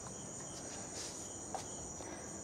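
Crickets chirp at night near a bungalow in South Goa, India, a steady high-pitched trill running continuously and fairly close, with faint footstep-like sounds underneath.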